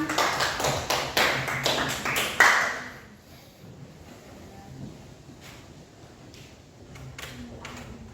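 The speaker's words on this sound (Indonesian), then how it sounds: "Iya, tepuk tangan." Clapping hands in a classroom, a burst of dense, fairly close claps for about two and a half seconds that then stops, leaving quiet room noise with a few faint taps.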